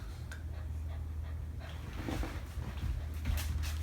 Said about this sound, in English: And my dog.